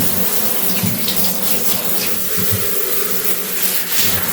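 Water showers over potted orchids in a loud, continuous hiss and spray, like a running tap, with steady splashing close up throughout and no voices.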